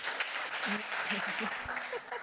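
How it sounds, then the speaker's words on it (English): Audience applause at the closing ceremony of a bootcamp, a steady broadband wash of clapping throughout with brief voices and a tone poking through underneath. "Give yourselves a huge round of applause."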